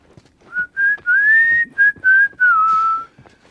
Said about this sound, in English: Here we are. That's my whistling.